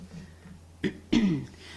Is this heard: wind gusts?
no